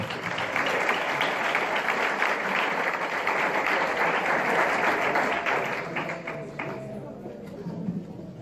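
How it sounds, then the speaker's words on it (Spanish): Sustained applause at a church youth gathering, many hands clapping in a thick, even roar that carries for several seconds before thinning and fading near the end. "Dale un aplauso al Señor"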